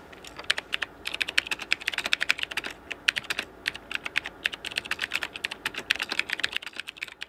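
Rapid, uneven clatter of keys being typed on the keyboard of a Dolch portable computer, dense clicky strokes close up and steady throughout with no voices.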